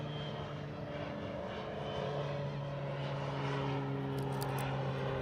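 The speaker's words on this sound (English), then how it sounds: "Oh yeah, planes, if you didn't see that." A propeller airplane passes overhead in Darwin, Australia, its steady engine drone and humming tones holding loud and continuous throughout, with no talking.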